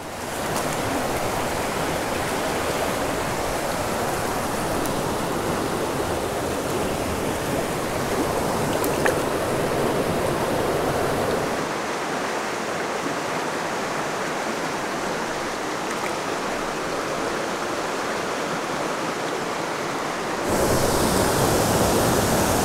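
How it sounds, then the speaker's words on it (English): A waterfall pours into a big pool in a canyon, giving a steady, loud broadband roar of rushing water throughout with no voices. "Next hole, another stunning waterfall. Big, big pool here."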